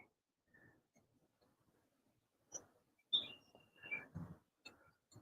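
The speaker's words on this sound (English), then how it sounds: "I love the bird sounds down here." Faint, scattered bird chirps and short calls sound at a distance, a few sharper tweets standing out amid quiet rustling.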